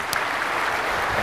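Brief, dense applause from a conference keynote audience at RSTechED 2014, a steady wash of clapping lasting just over a second.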